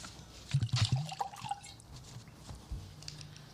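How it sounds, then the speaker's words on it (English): Water poured into a glass at a wine tasting event, a short splashing trickle near the start followed by faint drips and quiet room noise. "Pour something."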